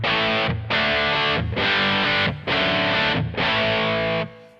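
Electric guitar through an MXR Distortion+ pedal: heavily distorted chords ring out in four or five sustained strums, each cut by a short gap, loud and alone with no talking.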